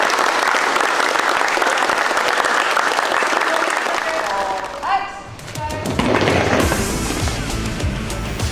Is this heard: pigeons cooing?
no